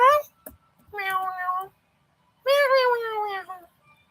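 Three drawn-out cat meows from a cat in the Triangle Strategy video game, loud and close, each rising and falling in pitch, the last the longest, with short gaps of silence between them.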